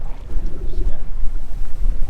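Wind gusts across a fishing boat at sea, out where slow pitch jigging runs in 200-metre water, producing a loud, buffeting low rumble against the microphone that swells and eases in uneven pulses.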